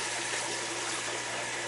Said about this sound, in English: I'm going to the sink and I'm going to pour out the excess water